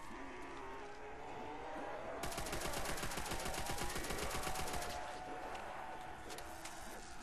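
Rapid automatic gunfire in Call of Duty zombies mode on the Verruckt map, a fast burst of evenly spaced shots lasting a few seconds over a constant background rumble.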